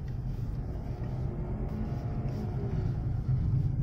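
Nissan Magnite running through a U-turn, a steady low engine and road rumble from inside the cabin, continuous and fairly loud, swelling slightly near the end.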